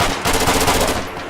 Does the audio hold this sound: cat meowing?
no